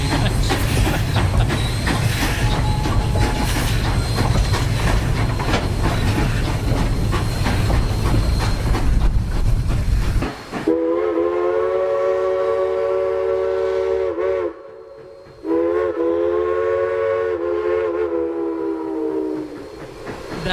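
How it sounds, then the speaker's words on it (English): The Durango and Silverton steam train rumbles and clatters along the line, then its chime whistle blows loudly in two long sustained blasts separated by a short gap. "That's Nick having fun with the whistle."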